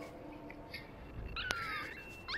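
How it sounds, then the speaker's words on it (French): A dog in the game Never Alone whimpering, with brief high whines and a sharp, sliding yelp in the middle, heard over quiet ambient game sound. "Oui, tu peux couiner le chien"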